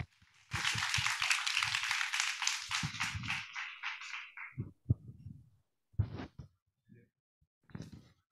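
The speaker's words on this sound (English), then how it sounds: "we should give our panel a hand of a round of applause" Applause for a panel at a university startup kickoff event, a sustained round of many clapping hands for several seconds that fades into scattered knocks, thumps and stage shuffling.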